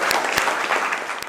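A school panel-discussion audience claps to welcome a managing-committee member, a short burst of dense applause at moderate volume with a few sharper claps poking through.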